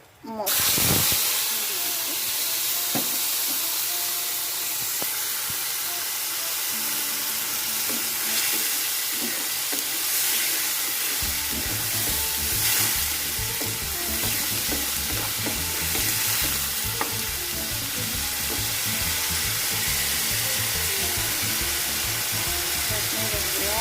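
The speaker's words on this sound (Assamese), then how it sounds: "এয়া মই তেলখিনি গৰম হ'ব দি পেলাই জিৰা, জলকীয়া মানে শুকান জলকীয়া আৰু এয়া নৰসিংহ পাত দিছোঁ।" Cumin, dried chilies and curry leaves hit hot oil and fry with a loud, continuous sizzle and hiss, with stirring and spattering heard throughout at close range.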